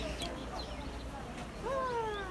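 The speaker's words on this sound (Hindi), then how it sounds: "इस पैरट के साथ मेरे हस्बैंड जो है ना बोल रहे थे, बात कर रहे थे, और वो जवाब दे रहा था।" A parrot, a macaw, calls back in clear rising and falling whistled notes, answering a man's whistling; several bright tonal calls sound close over steady background noise, the strongest arriving near the end.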